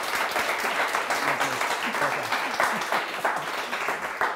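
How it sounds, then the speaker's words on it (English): An audience applauds at the close of a talk on fair creative economies in Bristol and Bath, a dense, steady clapping from a full room that carries on for several seconds with murmured voices mixed in. "Big round of applause for Liz."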